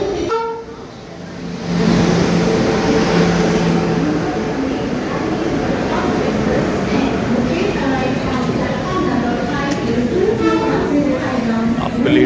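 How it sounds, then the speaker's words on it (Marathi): The Tapovan Express, a Mumbai–Nanded passenger train, pulls into a busy station platform with a loud continuous rumble and wheel clatter, rising after a quieter start, under the hubbub of a crowd. "ही तपोवन एक्सप्रेस आली आहे मुंबई नांदेड"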